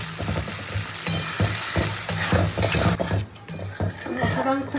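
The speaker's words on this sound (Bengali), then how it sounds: "যতক্ষণ না মশলা থেকে তেল ছাড়ছে ততক্ষণ মশলাটাকে কষাবো।" Spice masala cooks in oil in a pan and is stirred constantly, giving a loud, close, continuous sizzle with repeated scrapes and knocks of the stirring utensil against the pan.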